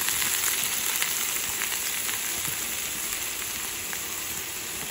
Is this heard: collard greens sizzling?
yes